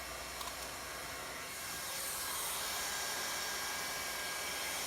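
Hot air plastic welder blowing heat onto kayak plastic, a steady loud airy roar and hiss that swells slightly partway through and continues unbroken, close to the listener.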